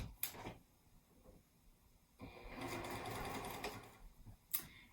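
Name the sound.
sewing machine stitching across folded pocket edge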